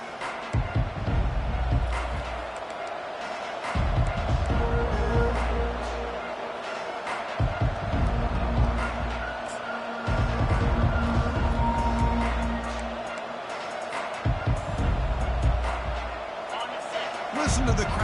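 Stadium crowd roar in the NCAA 25 college football video game, a steady swelling din of cheering fans that surges and dips in waves, with low rumbling thumps underneath and a commentator's voice talking over it.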